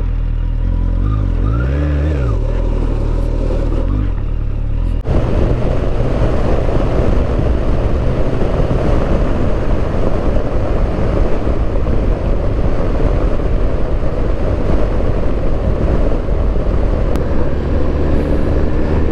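A car with tyres unsuited to off-road driving rolls along a rough gravel road in Norway, a constant loud rumble of tyres and engine with wind noise, steady throughout without speech.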